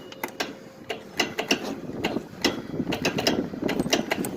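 A Yard Machines lawn tractor engine cranking on a weak battery: a labored, uneven mechanical churning with repeated clicks and clunks that never catches, close and continuous.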